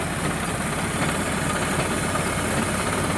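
A tractor engine powering a crop sprayer with a 550-litre tank, running in a steady, unbroken drone at moderate loudness with no voices over it.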